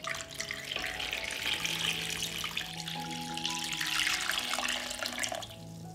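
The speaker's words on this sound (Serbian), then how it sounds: "Prelit ću butkice sa hladnom vodom." Cold water runs steadily from a tap into a pot holding pork legs, a continuous close rushing and gurgling flow that holds a constant level throughout with no voices.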